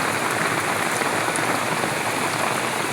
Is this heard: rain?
yes